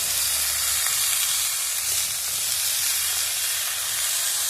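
Spices sizzling in hot oil for tempering a sukto, a Bengali vegetable dish made with tender drumstick stems: a loud, steady hiss and crackle, close and unbroken throughout, with no talking.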